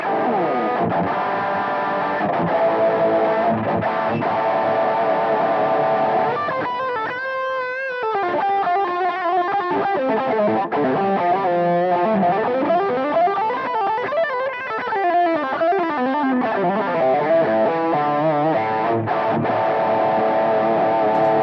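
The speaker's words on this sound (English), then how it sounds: "Here's some distortion tones for you on the bridge humbucker." Heavily distorted electric guitar on the bridge humbucker of a Suhr Pro Series M8 plays chords and sliding lead lines, thick and saturated, steady and loud with no talking.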